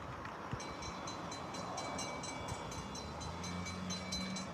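A train passes a railfanning spot in North Chili, New York, as a steady, continuous rumble of railcars with a faint high tone over it, heard alone without talk.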